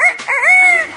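A talking parrot mimics a rooster's crow, one clear rising-and-falling tonal call about a second long, loud and close with no other sounds.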